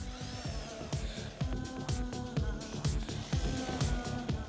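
Chipboard screws are driven by a power driver to join furniture pieces, giving short repeated whirring and ratcheting bursts close by, with no talking.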